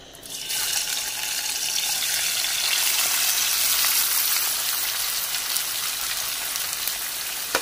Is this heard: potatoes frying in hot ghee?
yes